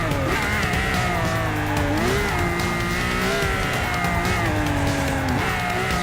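Car engine straining and tires squealing as a low race car brakes hard into a bend in Forza 6, a loud continuous roar with shifting pitch and sliding tire noise throughout.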